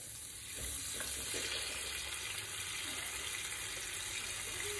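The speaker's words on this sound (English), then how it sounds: "Okay, so next we're going to add the tomatoes." Stewed tomatoes going into a hot pan for Cajun jambalaya pasta, a soft plop followed by a continuous, even sizzle and bubbling, quiet and close.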